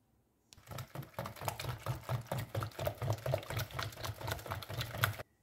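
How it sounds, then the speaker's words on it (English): A whisk beating a banana, sugar and vanilla essence mixture in a bowl, rapid regular clicking strokes close up, steady for about five seconds with no talk. "Whisk both these ingredients together."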